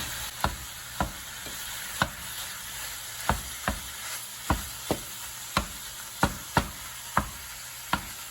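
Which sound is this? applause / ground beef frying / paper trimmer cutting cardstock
ground beef frying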